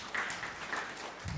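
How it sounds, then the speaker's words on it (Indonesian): Brief congregation applause during an online church service, a short burst of clapping heard somewhat distantly and at low level. "Berikan tepuk tangan meriah buat Tuhan kita."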